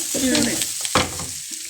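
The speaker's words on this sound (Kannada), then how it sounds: "ಅದನ್ನು ಕೂಡ ಎಣ್ಣೆನಲ್ಲಿ ಚೆನ್ನಾಗಿ ಫ್ರೈ ಮಾಡಿ" Coriander seeds fry in oil for a home-style chicken sukka, giving a close sizzling hiss broken by a few sharp spoon scrapes and stirring clatters over under two seconds, with no talking.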